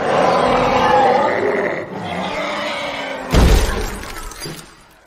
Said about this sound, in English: When the mutants burst in and crash the glass door